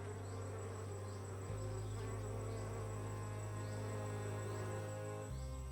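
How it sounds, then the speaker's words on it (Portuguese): Recorded buzzing of bees from real hives, a steady insect drone with a low sustained hum underneath, fairly faint and continuous with no voices. "Ao usarem sons de abelhas gravados de colmeias reais"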